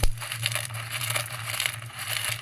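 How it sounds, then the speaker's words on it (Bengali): Roasted chickpeas are shelled by hand, the husks rubbing and crunching in continuous close crackling, with a low background hum throughout. "এই ছোলাগুলো ভাজা হয়ে গেছে এখন আমরা খোসাগুলোকে আস্তে আস্তে করে ছাড়িয়ে নেব"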